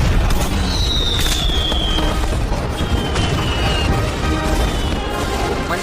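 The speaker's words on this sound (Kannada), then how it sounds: "ಮನೆ ಬ್ಲಾಸ್ಟ್ ಆಗಲಿದೆ" A house blows up in a staged demolition, giving a dense, sustained crashing roar with crackling bursts and a couple of whistling streaks rising above the din, loud and unbroken from start to finish.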